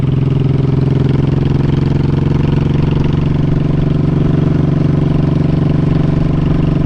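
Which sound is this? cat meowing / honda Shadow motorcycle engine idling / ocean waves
honda Shadow motorcycle engine idling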